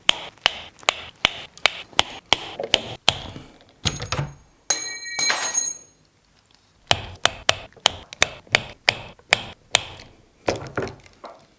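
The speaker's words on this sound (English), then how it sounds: "Let's just crimp these last ones" PEX fittings on a home run manifold water supply get crimped: a close, loud run of sharp, evenly spaced clicks, broken midway by a brief hiss and rattle and a short pause before the clicking resumes.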